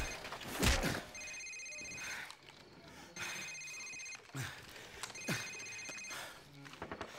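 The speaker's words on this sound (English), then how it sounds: "Sir, it's his cell phone." A cell phone rings in the Call of Duty 4: Modern Warfare safehouse scene, its electronic ring repeating in three bursts under loud game sounds and a shout near the start.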